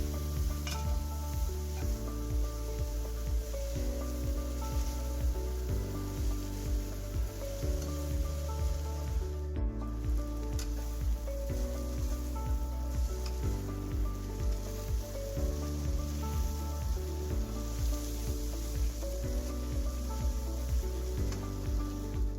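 Chicken chowmein noodles are stirred and tossed in a hot frying pan, a soft sizzle and scraping under a loud, steady, repeating musical backing track with no talk.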